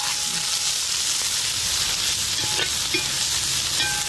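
Onions, green chillies and curry leaves fry in a pan for a snail soup, giving a steady, close, even sizzle with faint stirring scrapes and no voices.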